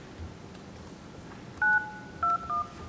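A telephone keypad sends a quick run of DTMF dialing tones, three clear beeps of differing pitch after a quiet stretch of room noise, loud and close with no talking.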